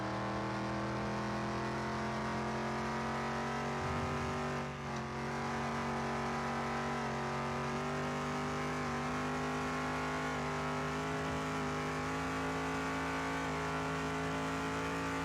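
A car engine drones steadily while driving in Car Mechanic Simulator 2021, a loud, sustained hum with layered harmonics that barely varies in pitch, and a brief dip near the middle.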